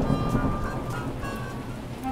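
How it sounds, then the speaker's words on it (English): Steady rain falls during an outdoor children's sports day, a dense, even hiss of drops filling the scene with no pauses and no talking. "Oh dear, it's raining."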